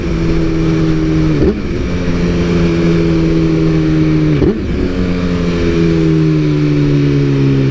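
A BMW S1000RR with a remapped ECU roars steadily while being ridden, its loud engine note holding then dipping briefly at two gear changes before climbing again.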